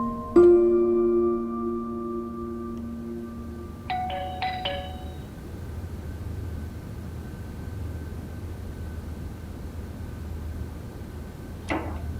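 A phone rings with a sustained electronic tone, followed a few seconds later by a quick trill of chirps, then fades into quiet background hiss.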